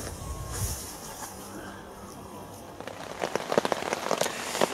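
Heavy rain patters and hisses on a surface outdoors by the River Great Ouse, the drops growing denser and louder toward the end.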